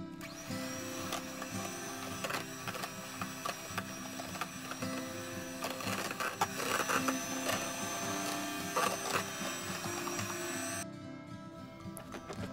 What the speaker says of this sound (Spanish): Voy a utilizar la forma de las aspas de la batidora.